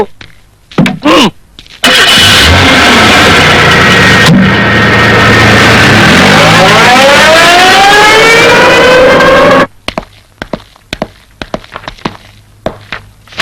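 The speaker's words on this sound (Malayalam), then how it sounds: "വണ്ടി പുറകോട്ട് എടുക്കണോ?" A car engine revs loudly and continuously for several seconds as the vehicle reverses, the pitch rising and falling with the throttle, followed by quieter thumps and background noise, with people talking before and after.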